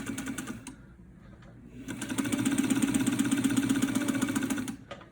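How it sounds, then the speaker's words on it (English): A 1947 Singer 66 sewing machine stitching fabric at its longest stitch length gives a close, steady mechanical chatter that slows briefly, then runs at full speed for a few seconds before stopping. "So let's see it stitching a long stitch."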